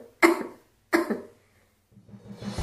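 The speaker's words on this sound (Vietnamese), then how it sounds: "Vài tiếng ho mạnh" Two strong, harsh coughs spaced about a second apart, close and loud, followed by a softer rustling noise, used as a sound effect in a Vietnamese audio story.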